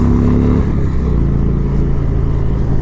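A 2017 Indian Springfield bagger motorcycle rumbles along while riding with a group of cruisers and touring bikes, its big engine giving a deep, loud, steady drone that shifts pitch slightly as the throttle changes.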